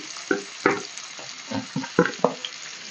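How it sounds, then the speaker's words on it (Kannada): Finely chopped onions frying in oil for a dhaba-style egg curry, about eight separate scraping, sizzling bursts from a stirring spoon, close by, with short quieter gaps between them. "ಫ್ರೆಂಡ್ಸ್, ಫ್ರೈ ಮಾಡಿ ಈರುಳ್ಳಿನ."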